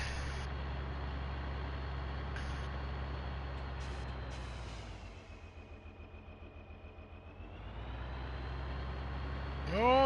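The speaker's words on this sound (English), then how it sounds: "Oh, that truck's gonna hit me." A heavy truck engine rumbles close by, its low drone dipping and pulsing as the vehicle slows and then pulls away.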